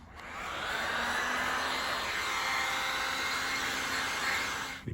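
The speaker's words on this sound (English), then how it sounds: "we activate the glue with a heat gun for a few seconds" A heat gun blows steadily for several seconds, warming glue on a PVC surface for a patch repair; the airy, whooshing motor hum starts up, holds even and loud, then cuts off.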